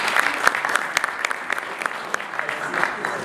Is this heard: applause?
yes